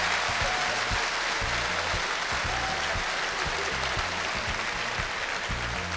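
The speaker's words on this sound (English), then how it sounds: "a round of applause, please" Crowd at a 1994 calypso monarch awards event keeps up a sustained round of applause, a steady, moderately faint patter of many hands over a low pulsing background.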